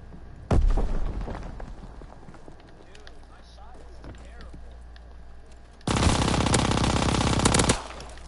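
Gunshots from a 1911 pistol or M1928 submachine gun in a World War II video game: one sharp loud shot early, then a sustained burst of rapid automatic fire near the end.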